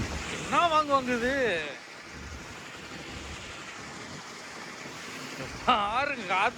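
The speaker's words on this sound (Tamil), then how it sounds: "பாருங்க காத்து வர்றத." Steady wind rushes and roars over the open deep sea around a fishing boat, with waves washing underneath. Someone talks briefly at the start and again at the end.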